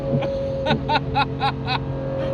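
A Lamborghini Revuelto's high-revving engine screams through several quick rises and falls, each burst of revs sharp and close.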